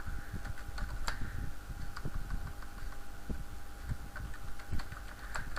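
Key taps on a computer keyboard come in an irregular run of soft, close clicks over a quiet room hum.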